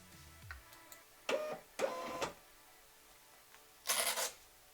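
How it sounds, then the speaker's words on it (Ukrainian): An Xprinter printer running a test page after setup on Windows 7 gives a few separate bursts of mechanical printing noise, close and fairly quiet, with short pauses between them and nobody speaking. "натискаємо параметр властивості принтера і натискаємо надрукувати пробну сторінку"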